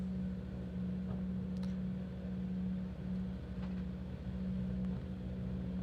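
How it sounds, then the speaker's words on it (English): A Toyota rally car engine on a stage of the 2025 Harlech rally gives a steady, droning hum that holds at an even pitch, close and alone. "You can hear the engine."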